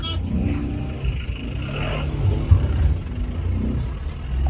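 A car engine revs and strains while climbing a mountain road at night on the way toward Kheerganga in the Himalayas, a steady low drone with some clatter lasting throughout, with no talk.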